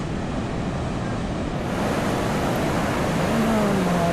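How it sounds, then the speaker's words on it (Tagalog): Sea surf rolling steadily onto the shore at Iba, Zambales on a rainy, stormy day, a broad continuous wash with wind buffeting the microphone, with a faint engine-like drone rising near the end. "Tapos ito yung dagat."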